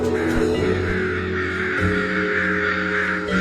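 A crowd of crows caws loudly and continuously, many harsh overlapping calls packed together close by with no pauses.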